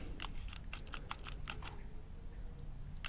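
A Glock pistol trigger, upgraded with aftermarket parts, gives a rapid series of about ten sharp, close, quiet clicks in an irregular run, then a pause and one last click.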